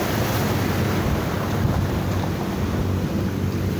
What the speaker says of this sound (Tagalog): Lakas ng alon guys, oh.